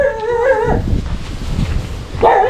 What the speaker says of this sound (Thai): โอ้หมาก็ยังเห่า